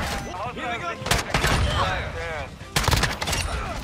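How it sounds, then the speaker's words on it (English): KV Broadside shotgun blasting in Modern Warfare 2 multiplayer, two loud broadband shots about 1.6 seconds apart over busy game noise, with a voice talking throughout. "we're using this shotgun variant for the broadside"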